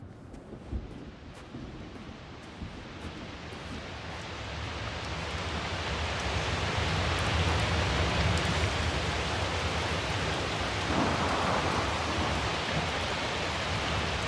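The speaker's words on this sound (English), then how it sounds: "The storm's getting worse." A thunderstorm with rain and wind in the video game The Invincible, a broad roaring wash of rain and gusts that swells louder after the first few seconds and stays heavy.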